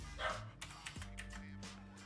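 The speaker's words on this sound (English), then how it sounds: "that's my dog in the background." A dog barks a few quick, faint times in the background, distant and low in level, amid quiet room noise.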